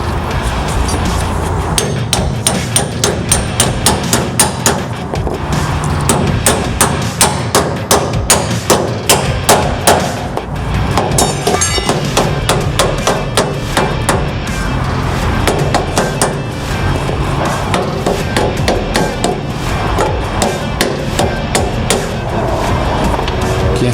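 A hammer drives a bolt into place with a long run of sharp, evenly spaced metallic strikes, loud and close, with no talking.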